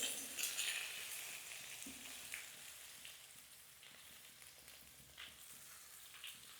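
Eggplant frying in a pan with salt and turmeric, a steady soft sizzle with light crackles and occasional stirring scrapes throughout, fairly quiet and close with no talking.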